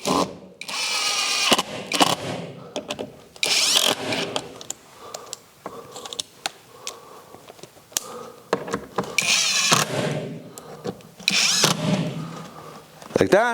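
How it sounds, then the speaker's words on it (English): Power drill driving screws into a wall bracket for a battery charging station, several short whirring bursts with gaps between them, close and loud, with brief speech in between. "then it's just a case of driving the screws in."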